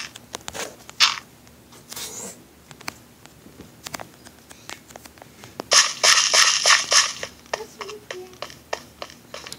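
Soft crunchy thuds of dirt blocks being placed in Minecraft skyblock, a scattered run of short muffled hits followed by a denser burst of gritty crunching, with brief speech mixed in.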